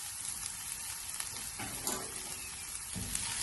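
Spinach and egg thoran cooks in a pan with masala, giving a soft, steady sizzle broken by a few scraping stirs of a spoon, close but quiet.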